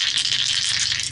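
Dice rattle continuously in a shaker or a hand, a steady loud clatter drawn for a divination reading, with no voices over it.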